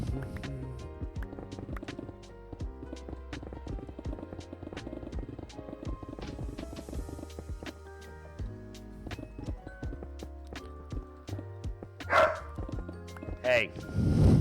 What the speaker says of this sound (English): There's no reason to bark right there.